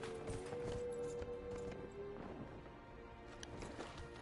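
Rapid clip-clopping hooves of a galloping horse during a horse race in the video game Dragon Age: Inquisition, in the Hinterlands, loud and steady over a busy game soundscape with a brief sustained tone early on.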